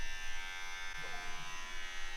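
A Manscaped electric trimmer motor runs with a steady, quiet, high-pitched buzz for about two seconds, close by but low in level, with no talking.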